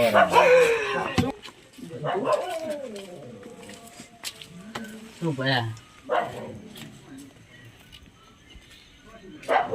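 A dog barks a few times, short rough yelps scattered among people talking loudly nearby.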